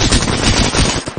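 Rapid automatic gunfire from a Fallout 4 firefight rattles out in a dense, loud, close burst of shots for about a second, then stops abruptly.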